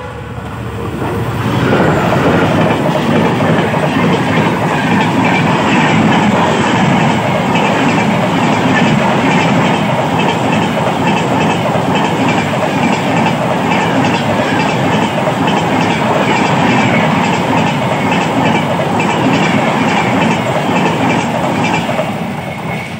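A train passes along a railway line near Borpathar station, rumbling loudly and steadily with rhythmic clickety-clack of wheels over rail joints for the full length, with no talk over it.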